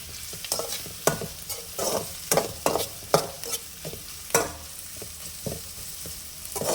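Sliced onions frying with ginger-garlic paste for Tamil egg fried rice: a soft sizzle under repeated sharp scrapes and knocks of a stirring spoon against the pan, close and irregular, with no voices.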